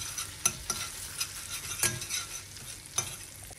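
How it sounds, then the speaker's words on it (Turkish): Tomato paste and butter sautéing in a pan, a soft steady sizzle broken by a few sharp spoon scrapes and taps against the pan, close and with no talking. "Salçamı ve tereyağımı biraz kavuracağım."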